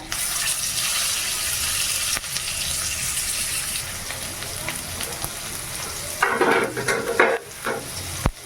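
Green chilli, turmeric and tomato frying for greens, with a loud steady sizzle and stirring that turns into sharper crackles and splashy bursts after the tomato goes in, close up with no talk.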